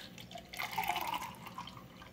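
Blackberry and acerola juice, thick like a smoothie, pours into a glass in a short, close, gurgling stream that swells and fades.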